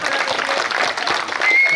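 An audience at a Hindi comedy poetry show bursts into dense, continuous clapping that fills the whole moment, with crowd noise mixed in.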